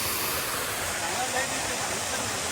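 Water from Chinnat waterfall roars in a dense, steady broadband rush, loud and close, filling the whole clip without a break.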